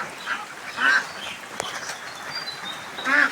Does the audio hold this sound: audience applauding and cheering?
no